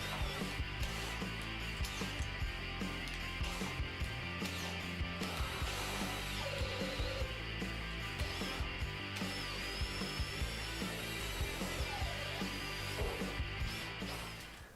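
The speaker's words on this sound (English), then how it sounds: "The Makita was the only one that was able to finish the hole on high speed with the large bit" A Makita XPH07 (DHP481) cordless drill boring a large hole with a large bit at high speed, likely into wood, gives a loud continuous grinding, rubbing drone that stays steady and close throughout.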